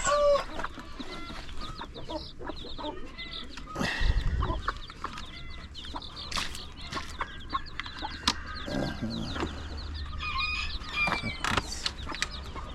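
Mother hen clucking among newly hatched chicks of a new Ethiopian (Habeş) breed, repeated soft clucks mixed with high chick peeps close by, with a few thumps and rustles in between.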